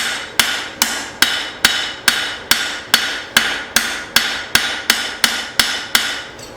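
Hammer forging a short-body steel tomahawk on the taper, fifteen sharp ringing blows in a steady, even rhythm roughly every half second, close and loud with no talk.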